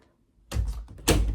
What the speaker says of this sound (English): Kind of shut the door on her there.